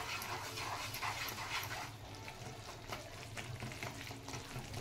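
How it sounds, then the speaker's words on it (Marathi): Semolina is stirred in sugar syrup over low heat, giving a continuous soft sizzle with faint scraping from the spoon, fairly quiet and steady throughout. "जोपर्यंत याची घट्ट गोळी तयार होत नाही तोपर्यंत चांगलं हलवून घ्यायचं बारीक गॅसवर."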